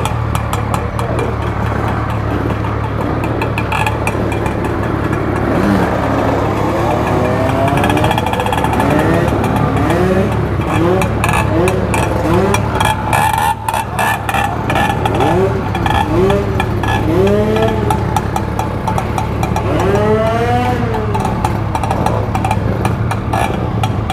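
A Yamaha MT-01 motorcycle engine runs loud and close at a classic-motorcycle meet in Curitiba, rumbling steadily with repeated revving swells, while other bikes and voices mix in the background.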